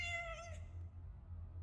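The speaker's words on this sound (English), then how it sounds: "It's a kitty." A cat gives a single drawn-out, tonal meow that fades after about half a second, close and clear over a quiet low hum.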